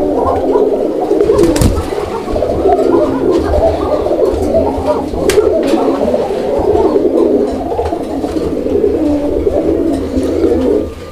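Several Raj-golla pigeons, including a coffee-coloured pair, coo continuously and close by at a pigeon seller's, a dense layered murmur with occasional wing flutters.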